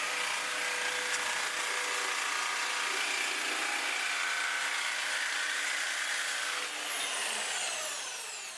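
A Bosch GST Professional jigsaw drives its blade through thick aluminium in a steady, loud, continuous cutting whine with rasping grit, holding level throughout before the pitch shifts and trails off near the end.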